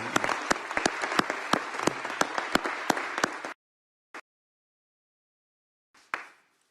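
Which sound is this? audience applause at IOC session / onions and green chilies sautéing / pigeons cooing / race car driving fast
audience applause at IOC session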